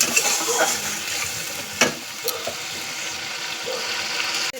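Spice masala stir-frying in a pan, a continuous close sizzle with occasional scraping strokes of a spoon across the metal.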